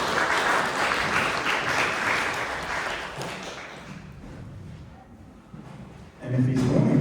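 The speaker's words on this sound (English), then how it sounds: "give a big round of applause" Applause welcoming a jazz musician to the stage, loud and sustained for about four seconds, then fading to scattered claps before a fresh loud burst near the end.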